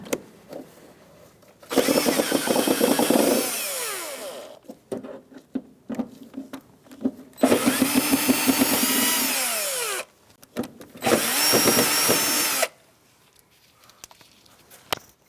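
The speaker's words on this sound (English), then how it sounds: "we're going to undo our screws" A power drill whirs in three close bursts, each a couple of seconds long, as it backs screws out of a 2010–2013 Kia Soul inner fender liner, with small clicks and handling noises between runs.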